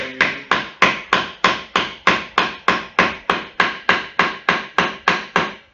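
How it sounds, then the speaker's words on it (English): Steady, evenly spaced hammer blows, about fourteen in a row, loud and close, each a sharp strike with a quick decay, while working on a wooden chess and backgammon board. "And we need the other hammer, but this one will do."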